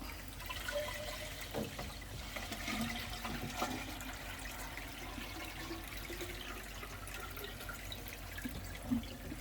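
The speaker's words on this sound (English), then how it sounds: "is to refill it with RO water. So I'll do that now." RO water pours steadily into the emptied chamber of a kalkwasser stirrer in a reef aquarium setup, a continuous close splashing and trickling that keeps an even level throughout with no talk.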